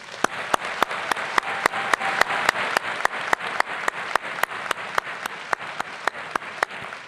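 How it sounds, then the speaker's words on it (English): Steady applause from a seated audience at a university business school commencement ceremony, a dense patter of many hands with regular louder claps close by, continuing without a break. "Let's give Hunter a round of applause"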